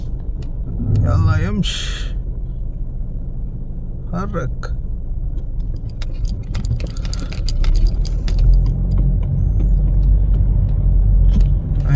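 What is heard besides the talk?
heavy road traffic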